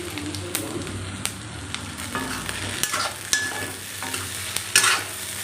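Cumin seeds crackling in hot oil, a busy sizzle with sharp spoon clatters against the pan, close and without voices.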